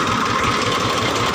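An old Massey Ferguson 210 small tractor engine idles close up with a steady, loud, even chugging rumble and no pauses.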